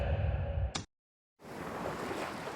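Ocean waves as a sound effect in a podcast story, a broadband wash of surf that cuts briefly to silence and then returns as a steady rushing roar.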